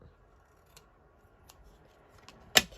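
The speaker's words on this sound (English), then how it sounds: "just snip it off at the edge" Scissors snip paper for a junk journal: one crisp, close cut near the end, preceded by a few faint clicks of the blades, with no talking.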